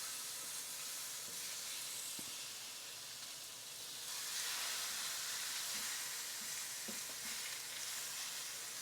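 Meat sizzles on a hot tray in a Ninja Foodi air fryer oven, a steady hissing crackle that grows louder midway, with a few soft clicks and knocks.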